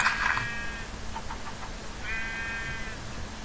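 Two sheep bleats from a Minecraft-style survival game, one at the start and a longer one a couple of seconds later, each a clear wavering cry over a steady low background hum.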